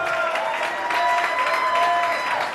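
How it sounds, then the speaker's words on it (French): Steady applause from an audience at a family dance-party celebration, loud and sustained for the whole span, with voices and a faint tonal hum mixed underneath. "applaudissez-vous Mohamed"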